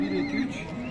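A horse at a horse market near Sokuluk, Bishkek, lets out a single close, loud neigh with no talking over it.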